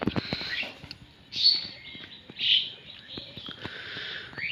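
A watercock, or kora bird, calls in repeated short bursts, two stronger calls standing out over faint background chirps and clicks at moderate distance.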